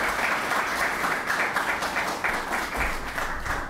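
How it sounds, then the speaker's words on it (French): An audience at a talk on Haitian army history applauds Dr. Watson Denis, dense steady clapping filling the room for several seconds without letting up. "est-ce qu'on peut applaudir le docteur Watson Denis?"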